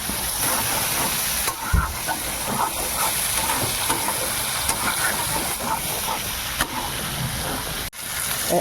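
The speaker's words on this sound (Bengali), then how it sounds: "যত ভালো করে মাছের তেলটা ভাজবেন তত আঁচড়ে গন্ধটা কেটে যাবে" Fish fat sizzling as it fries in oil in a pan, a steady close hiss of frying with faint stirring clatter throughout.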